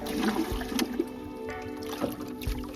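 Water trickles and gurgles from a natural spring, close and continuous, with a few small splashes.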